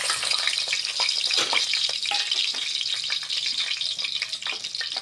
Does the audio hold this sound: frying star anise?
yes